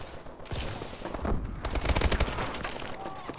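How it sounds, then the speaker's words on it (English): Rapid burst-fire gun in Call of Duty: Advanced Warfare multiplayer, clusters of quick sharp shots cracking in rhythmic bursts among other gunfire, moderately loud. "Oh, I didn't know it was a freaking burst gun."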